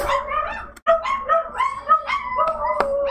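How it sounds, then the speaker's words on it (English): A pair of household dogs bark, yip and whine continuously, close and loud, their voices overlapping in quick irregular bursts without pauses. "Sorry about my dogs."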